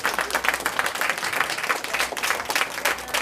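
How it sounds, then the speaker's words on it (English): A round of applause from the audience at a community gathering on water supply in Lapland, steady dense clapping throughout, moderately loud with no talk over it. "A round of applause for Homer."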